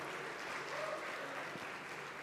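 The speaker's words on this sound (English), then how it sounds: "please give him a huge round of applause" Steady, dense applause from a conference audience at the ICAI UDAN 2025 event, welcoming a co-host, fairly faint and even throughout, with no clear voices over it.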